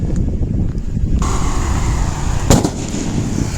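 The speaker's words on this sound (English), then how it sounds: "It sounded like a shot. But no, it's like a shot, but it's to scare the birds that go to the crops to get some food." Bird-scaring gun fired near crops in Goa, a single sharp bang partway through, heard over steady wind and outdoor background noise.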